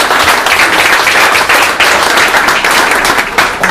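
A room full of people applauding, with dense, steady clapping that stays loud and even throughout, a school-community partnership event crowd cheering a milestone.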